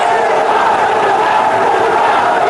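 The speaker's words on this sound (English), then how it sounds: "Bangladesh, they've got a raucous crowd cheering them on" Raucous crowd cheering for Bangladesh at a cricket one-day international in Sharjah, a dense, continuous roar of many voices filling the stadium without pause.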